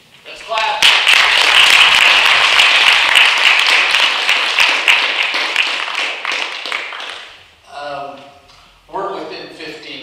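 Audience applause fills a room at a vision retreat, a dense, steady clapping crowd for about seven seconds before it fades, followed by a voice speaking briefly.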